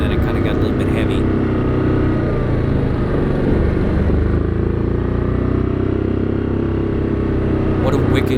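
An ATV on 30-inch Cryptid snow tires churns through heavy, wet snow, its engine droning loud and steady the whole time with a continuous rumble of tires clawing at the snow.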